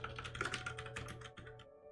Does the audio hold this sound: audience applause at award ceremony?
no